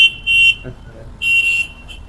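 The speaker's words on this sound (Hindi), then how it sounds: "बहुत हॉर्न बजा रहे हैं ये लोग" Vehicle horns honk outside in two short bursts, a higher-pitched electronic-sounding tone with a faint beep in the pause between them, heard at a distance over low background noise.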